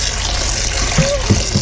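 Running tap water gushes as shrimp are rinsed under it in a kitchen, a steady loud stream with a few brief knocks and splashes toward the end.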